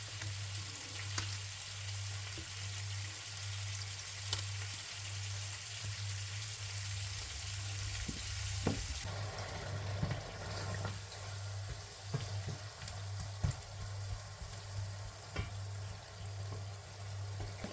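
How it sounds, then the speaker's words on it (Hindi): Garlic fries steadily in a pan for an aloo baingan dish, a continuous soft sizzle with a low steady hum beneath and occasional faint clinks, no voices. "तो इसको भूनेंगे ताकि जो लहसुन की थोड़ी सी स्मेल होती है वो चली जाए"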